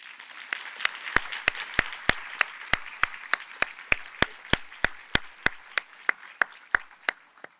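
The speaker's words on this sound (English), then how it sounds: "we're going to give our students a round of applause" A room full of people applauding students at a university showcase, with a few sharp, close claps ringing out at a steady, even pace over the crowd's clapping.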